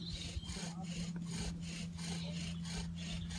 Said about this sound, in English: then using the full length of the string, move the bow forwards and backwards.